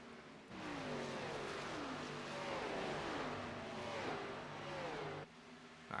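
Race cars in an Xfinity Series sim race at Auto Club, rolling on pit road with steady engine drone and pitch sweeps as cars slow and pass, loud and continuous through the stretch.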